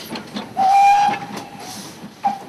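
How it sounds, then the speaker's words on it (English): A train whistle sound effect added in video editing gives a sustained steady tone with a hissing steam edge, lasting about half a second, then fading, with a second brief blast near the end. "so we'll take the train whistle and there we are"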